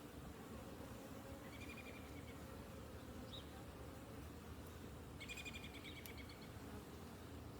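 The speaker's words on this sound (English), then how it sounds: "This thing is just full of bees again" Honey bees fill a crowded March hive heavy with drones, a steady dense buzzing drone running throughout, with a few faint bird chirps high above it and no talking.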